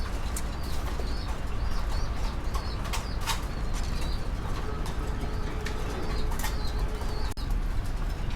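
White-faced fancy pigeons in a cage at a pigeon farm give soft repeated coos and occasional wing flaps over a steady background hiss, fairly close.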